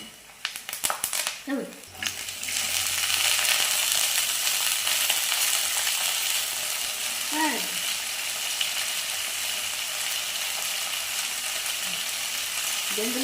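Broad beans and brinjal fry and sizzle in a hot pan, a steady crackling hiss after a few clanks of stirring at the start, with occasional scraping.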